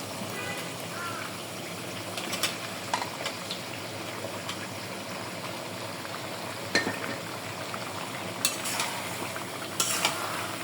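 Ridge gourd goes into a pan of pumpkin that has already been cooked down, a soft continuous sizzle with scattered clinks and stirring scrapes throughout.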